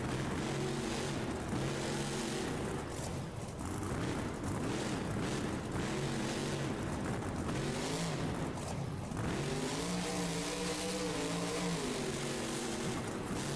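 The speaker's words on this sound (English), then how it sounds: "Doing a little donut, going around the truck that's on the track with 10 seconds left" A monster truck in BeamNG spins a donut at a Monster Jam arena event set in Baltimore. The engine revs loud and continuous, with rising and falling pitch sweeps over steady rumble, and no voices.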